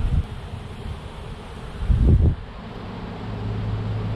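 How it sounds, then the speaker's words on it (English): Honeybees around a hive after a swarm, a low steady buzzing hum with a louder, closer drone swelling briefly in the middle. "You guys see all these bees up in here?"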